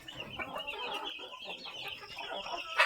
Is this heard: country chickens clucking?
yes